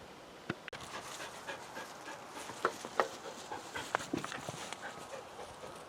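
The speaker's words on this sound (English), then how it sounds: "You hear heavy breathing, that's a dog, not me." A dog pants heavily and rapidly nearby, rhythmic breathy huffs over a noisy outdoor background with a few sharp clicks.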